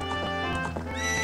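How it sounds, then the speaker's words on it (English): Horse neighing in a Legend of Zelda video game, a loud whinny with harmonic squeals over soft hoof clip-clop, close and alone with no talk. "we have a horse now"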